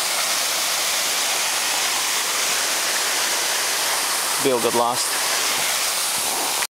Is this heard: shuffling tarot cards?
no